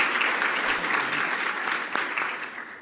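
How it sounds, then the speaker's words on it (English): Guests at a power breakfast applaud for a college president, producing a brief, fairly loud burst of clapping that fades toward the end. "Please give her a round of applause."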